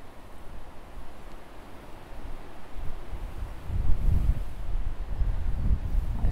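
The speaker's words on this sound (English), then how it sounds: "the wind is an absolute pain today" Wind buffets the microphone on a fishing bank, a steady low rumble that swells into stronger gusts partway through, with no talking.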